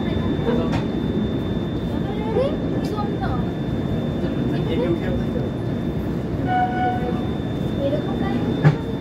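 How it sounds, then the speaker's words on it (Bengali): The Jammu Tawi–Kolkata Express pulls into Kolkata station with a steady rumble of wheels and carriages, faint squeals and a brief horn-like tone, under talk and ambient station noise. "এখন আমাদের ট্রেন এসে দাঁড়ালো কলকাতা স্টেশনে"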